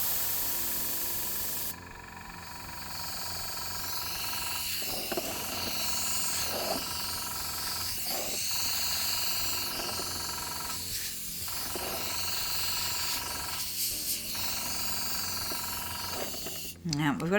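An air blower pushes alcohol ink across a ceramic tile, a continuous loud whooshing hiss that swells and dips in pressure over many seconds, with a person speaking intermittently beneath it.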